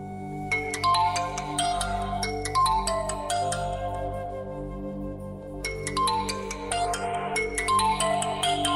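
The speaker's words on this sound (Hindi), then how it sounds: "किसका फोन उठा लो, बार बार बज रहा है।" A phone ringtone plays repeatedly in a tonal melodic pattern, ringing in two bursts with a short pause between, with no talk over it.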